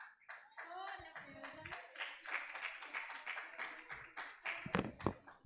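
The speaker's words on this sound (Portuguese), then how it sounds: "palmas, louve o Senhor Jesus." Clapping in a church worship service, a cluster of hand claps with scattered sharper taps, mixed with overlapping voices and singing nearby.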